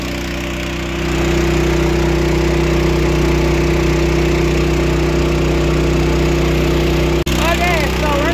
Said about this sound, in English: The transfer pump running and fueled up.